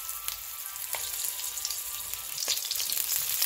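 Potato-stuffed chili peppers frying in oil make a soft, steady sizzle with occasional faint ticks and pops, fairly quiet and close.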